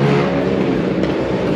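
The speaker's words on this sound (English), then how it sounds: "I'm listening to the cars in the background zoom by the show." Cars zoom past on a road outside a gem show in Tucson, a continuous rushing traffic noise with engine drone, fairly close and steady.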